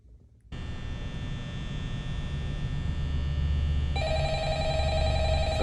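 In the Five Nights at Freddy's video game, a telephone rings with a steady electronic tone over a low constant hum, continuous and fairly loud, intensifying partway through.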